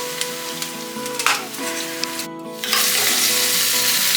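Butter browns in a shaken pan for acorn squash soup, giving a steady bright sizzle that swells into a louder, denser crackle near the end, with a tonal background hum underneath and no speech.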